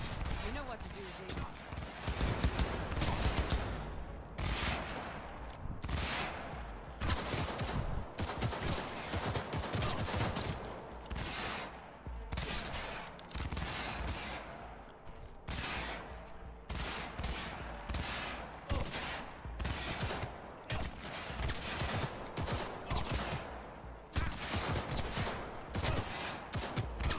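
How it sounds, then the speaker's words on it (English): Sustained rapid gunfire in Cyberpunk 2077, dense bursts of automatic fire and shots cracking continuously for the whole stretch, loud and close, with voices faintly mixed in beneath the shooting. "Bullets are flying!"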